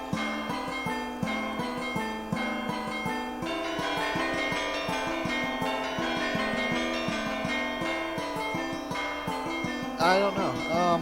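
Synthesized church bells from MS-DOS play a Christmas carol as a continuous tune of ringing bell tones over a steady rhythmic pulse, with a brief warbling flourish near the end.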